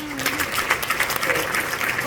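A church general assembly gives applause to approve a sole candidate's election by acclamation, a full room clapping steadily with voices mixed in.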